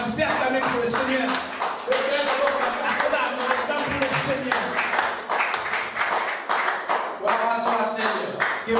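A church congregation claps and cheers in praise, dense rhythmic applause mixed with raised voices filling the room.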